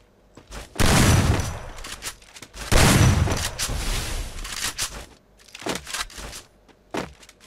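Gunfire during a jump shot in a mobile shooter game: two loud bursts of rapid shots close together, followed by scattered lighter impacts and footstep-like thuds, with no voices over them.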